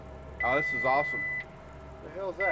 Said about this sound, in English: That's the alarm going off on that radio telling me that I don't have the GPS hooked up to it